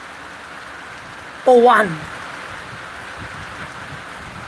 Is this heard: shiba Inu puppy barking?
no